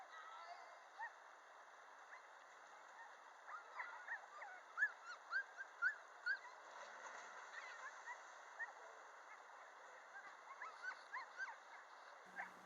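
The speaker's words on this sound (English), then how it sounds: "You hear yelping there in the background for keeping him tied up" A tied-up dog yelps and whimpers in the background during a lunch stop on a run from Wickenburg to Lake Pleasanton, a scatter of faint, intermittent cries at a distance.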